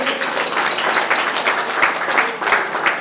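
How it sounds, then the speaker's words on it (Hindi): An audience at a Good Friday gathering applauds to welcome an award recipient forward, with close, lively clapping and a few sharper individual claps standing out. "तालियों से इनका स्वागत करेंगे।"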